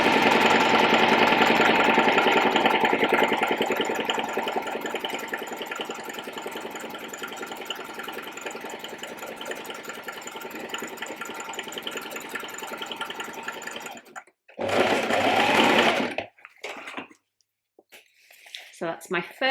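A sewing machine stitches shirring lines on dress fabric in a long, continuous drone that fades slightly as it goes. After it stops, a short burst follows, then quiet with light handling noises.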